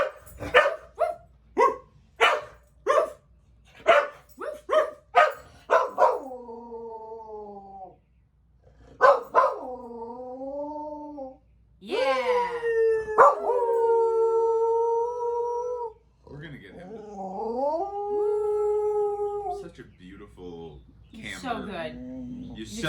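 A dog sings along to a song with a series of short rhythmic barks and yips, then long rising and falling howls. The sound is loud and close, and it alternates with stretches of wailing.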